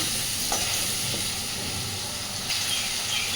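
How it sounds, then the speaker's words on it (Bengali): Potatoes seasoned with salt and turmeric fry in a pan for an eel fish curry, giving a steady, close sizzle with a few faint stirring scrapes and no talk. "আলুগুলোকে ভেজে নেব"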